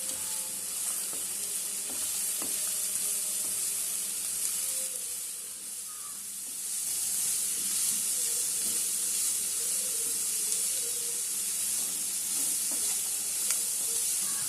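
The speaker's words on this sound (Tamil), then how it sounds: "குடைமிளகாய், முட்டைக்கோஸ், பட்டாணி எல்லாத்தையும் போட்டு நல்லா வதக்குவோம்." Capsicum, cabbage and peas sautéing in a pan for a spicy masala bread toast topping, a steady loud sizzle with soft stirring scrapes throughout, no voices.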